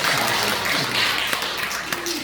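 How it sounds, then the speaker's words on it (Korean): A congregation applauds during a Sunday afternoon praise worship service at a Korean church, a brief burst of scattered clapping at close range with some voices mixed in. "박수."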